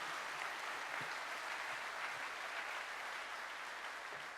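A church congregation at a closing worship service of a mission conference applauds together, a steady, dense wash of clapping that holds evenly throughout at moderate level.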